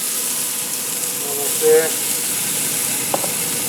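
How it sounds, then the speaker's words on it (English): Steaks searing on a very hot serving platter give a steady broadband sizzle and hiss throughout, close up, while someone speaks briefly over it. "you can see how those are sizzling"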